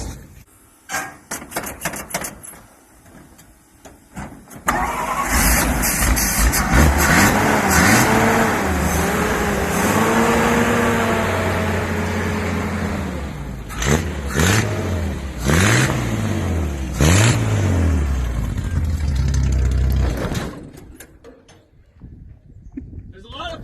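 Engine of a 1948 Dodge Power Wagon starting and running, a loud, rough, close rumble with several revs rising and falling, and people talking over it.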